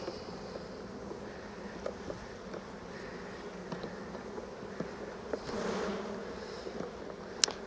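Honeybees buzz steadily around an opened hive during an inspection, a soft continuous hum with scattered individual bees flying past close by and occasional brief louder passes.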